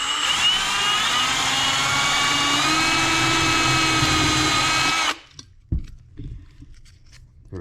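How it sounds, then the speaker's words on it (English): A power drill with a 1/8 inch bit runs fast at high pitch, boring a hole through a metal jar lid, a loud steady whine for about five seconds, then stops, followed by faint handling clicks. "use a 1/8 drill bit, we'll drill the injection port hole"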